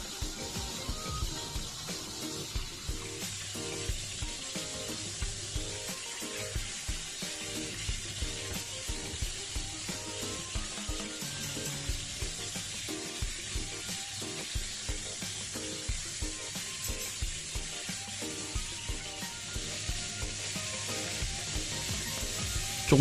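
Chicken thigh pan-frying over medium-low heat for teriyaki, a steady close sizzle with bright crackling spits running the whole time, nobody talking.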